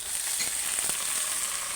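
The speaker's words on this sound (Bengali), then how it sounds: "পেঁয়াজটা আমি হালকা করে আগে ভেজে নিই" Onion and ginger-garlic paste frying in a pan for chicken kosha, a steady, close, hissing sizzle with no voices.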